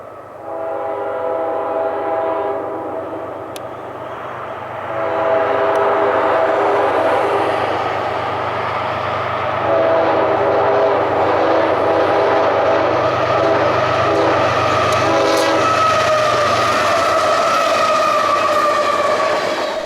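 A Union Pacific coke train led by a CP ES44AC locomotive rumbles past close by, its horn sounding in long steady blasts over the low engine drone and the grinding roll of the railcars.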